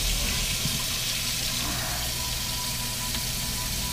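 Tap water runs into a kitchen sink as pasta water is drained for four-cheese mac and cheese, a steady, close, continuous rushing hiss with no talking.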